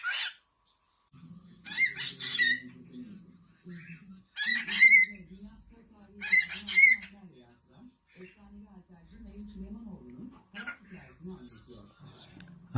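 A cockatiel parrot vocalizes in short chirpy, speech-like phrases separated by brief pauses, with a person's low voice talking in between.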